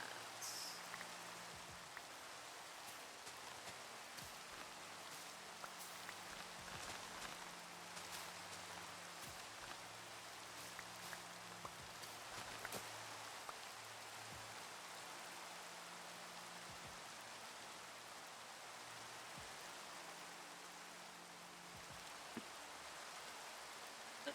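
Steady in-game rain hisses without a break through a Minecraft-style survival server world, a dense even wash of drops that stays constant at moderate level with no talk over it.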